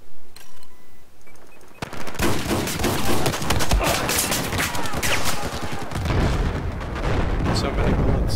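Battlefield 4 gameplay with dense, sustained gunfire: rapid automatic bursts and heavy booming shots fill the scene after a quieter opening, with voices talking underneath.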